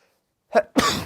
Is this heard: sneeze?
yes